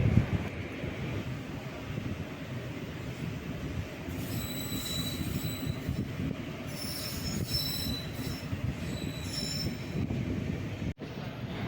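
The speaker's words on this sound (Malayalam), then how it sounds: "നമ്മുടെ ട്രെയിൻ എട്ടരയ്ക്ക് മുമ്പേ എത്തി" A passenger train on the Kollam to Attukal route runs steadily on the rails with a continuous low rumble, and shrill wheel squeals come and go midway. No one speaks.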